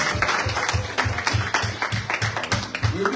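A church congregation at a Sunday service claps for the pastoral team, a fairly close rhythmic burst of hand claps with steady beats over a murmuring crowd.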